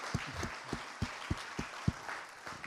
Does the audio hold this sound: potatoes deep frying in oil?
no